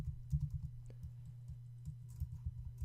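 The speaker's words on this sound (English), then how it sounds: "I'll quickly type in Sri Lanka." Quiet, quick keystrokes on a computer keyboard in a short burst of typing, close by and fairly soft, without speech.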